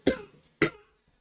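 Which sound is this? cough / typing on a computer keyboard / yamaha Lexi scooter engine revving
cough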